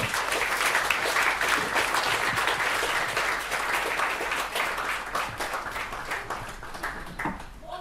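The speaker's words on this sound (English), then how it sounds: "let's all clap our hands and think and appreciate our parents" Wedding guests applaud during the toasts, a full, sustained round of clapping from a sizable crowd, strong and even before gradually thinning toward the end.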